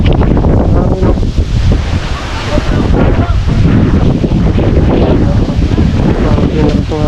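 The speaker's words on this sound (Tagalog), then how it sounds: "Grabe na itong hangin" Strong wind roars and buffets the microphone continuously, loud and steady throughout.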